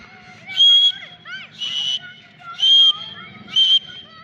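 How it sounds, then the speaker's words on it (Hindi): A toy pistol bullet is blown like a whistle in four shrill, loud blasts, evenly spaced and close up, with faint voices and chatter between them. "पिस्तौल गोली से सीटी बजाएंगे"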